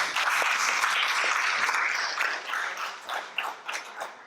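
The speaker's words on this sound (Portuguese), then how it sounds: "Palmas, gente." Audience applause at a public talk on prohibitionism and racism in Rio, a steady dense clatter of many hands that thins into scattered claps near the end, heard alone without talk.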